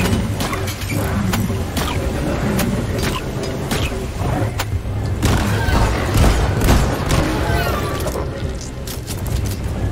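Weapons firing during a hectic fight against a swarm in the modded co-op shooter game Deep Rock Galactic: steady rapid gunfire and booming impacts run loud and continuous throughout, with sharp cracks layered over the din.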